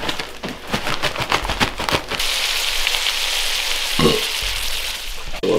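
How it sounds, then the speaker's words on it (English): Snow goose nuggets frying in bacon grease, giving a steady loud sizzle and crackle that carries on alone after a few opening pops and clatters. "Then we're gonna fry them in the bacon grease."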